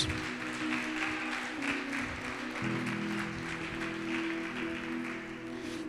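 Church congregation applauding, a dense, even wash of many hands clapping at once, held steady under a low sustained keyboard chord.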